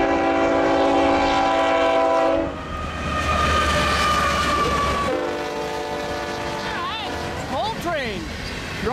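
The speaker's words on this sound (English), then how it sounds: "Westbound stack train, eastbound mixed freight, Montour." Union Pacific freight trains on the Clinton Sub, with a loud sustained multi-tone horn blast followed by rumbling cars passing, then further horn notes sliding in pitch near the end.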